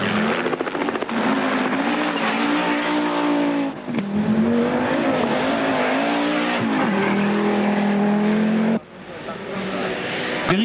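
Rally cars race through a stage of the 1982 Rally 1000 Lagos, a Mitsubishi Lancer Turbo and Audis, their loud engines roaring and revving with pitch shifts as they pass. Commentary talk runs underneath.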